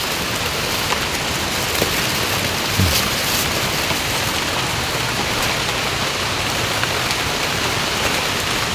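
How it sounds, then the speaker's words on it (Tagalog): Steady rain falls outdoors in a broad, even hiss that holds for the whole stretch, close and fairly loud, with a few scattered drop taps and no voices. "Umuulan habang nangangabuti."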